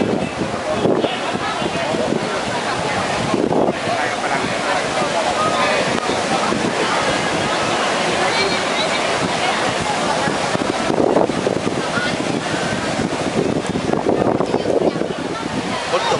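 Sea waves wash continuously onto the sandy beach of Koh Samet, Rayong, in a broad roar mixed with wind buffeting the microphone, while voices talk intermittently over it.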